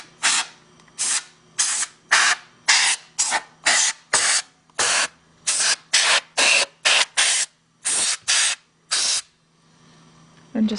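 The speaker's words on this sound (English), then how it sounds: "I use a little compressed air on it" Compressed air blows out a sewing machine during cleaning in a run of about eighteen short, loud, close hissing bursts with brief gaps of quiet between them.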